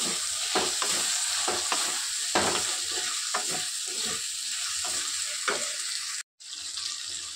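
Tomatoes frying with ginger and garlic in a pan, a steady close sizzle broken by repeated scraping stirs, with one brief gap near the end.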